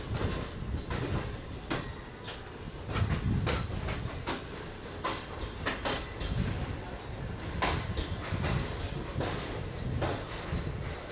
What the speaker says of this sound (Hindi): चार नंबर प्लेटफॉर्म पे लिया है दोस्तों पाक बिजनेस एक्सप्रेस को।